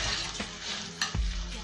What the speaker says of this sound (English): we put it in a frying pan and then with butter